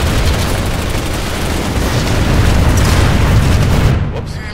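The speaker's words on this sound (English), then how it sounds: "Generator destroyed." A shield generator blows up in a sci-fi shooter video game, a loud, sustained roaring boom that rumbles for several seconds before cutting off abruptly.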